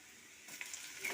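Boiled grass pea greens hit a pan of browned garlic and onion, giving a soft, steady sizzle and light frying hiss that swells slightly as the greens settle, heard close and alone.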